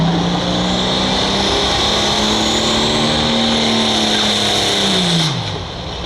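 A pulling tractor's heavy engine roars loudly and continuously at high revs while dragging a sled, its pitch sagging and dropping away near the end as the turbocharger or a piston fails.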